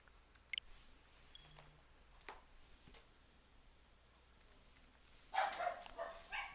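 Dogs barking at a distance, a short cluster of yips and barks near the end after a long stretch of quiet room tone with faint clicks, no talking.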